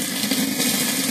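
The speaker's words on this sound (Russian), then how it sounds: "Это шумит вода." Water rushes noisily through a tube into a heater's carburettor on a waste-oil stove, a loud continuous gurgling hiss with a steady low hum beneath.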